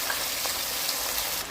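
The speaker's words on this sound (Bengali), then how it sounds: "এবার ফার্স্টে বেগুনগুলো ভেজে নেব" Eggplant pieces fry in a pan of oil tempered with black cumin, giving off a dense, even sizzle and hiss that carries on without a break.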